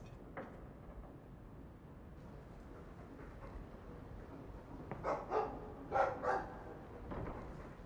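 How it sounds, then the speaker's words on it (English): A dog barks a few times midway through a Dragon Age 2 scene, short clustered barks rising over a steady low game ambience that runs the whole time. "I like the doggy."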